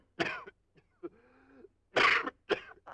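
A man in a 1960s Western TV drama gives several short, dry coughs and throat-clearings, close and isolated, with a brief strained vocal sound between them.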